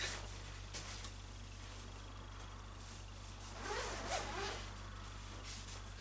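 A zip pocket on the back of a camera bag is pulled open in one quick rasping run about midway through, close and fairly quiet over a steady low hum, with no talking.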